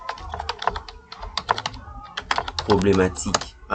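Someone types a word on a computer keyboard, producing quick irregular clicky keystrokes in short bursts, close up, with a brief voice murmuring partway through.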